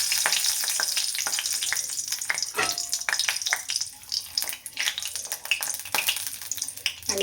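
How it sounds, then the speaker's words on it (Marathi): Bay leaves hit hot oil in a pan for a dhaba-style egg curry, setting off loud, close, continuous frying crackle with sharp spits and pops throughout. "सो आता तेल गरम झाले, आता आपण टाकायचं त्याच्यामध्ये तेजपत्ता."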